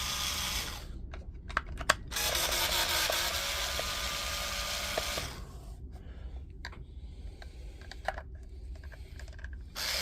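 Screws being removed from a large Milwaukee M18 lithium-ion battery pack, eight in all, with a busy whirring tool sound and sharp clicks and taps close by, then a quieter stretch of scattered handling knocks; no speech.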